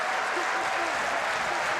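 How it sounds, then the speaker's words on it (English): Steady applause from a stadium crowd at an England v France under-20 rugby final as a player leaves the field, a continuous dense clatter of clapping heard from a distance and sustained throughout. "Jordan Joseph receiving due adulation from the crowd as he makes way"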